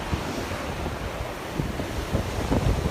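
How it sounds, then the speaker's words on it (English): Strong wind buffets the microphone on a beach while ocean waves surge and break steadily, a constant roaring wash with a few louder swells. "But it is super windy."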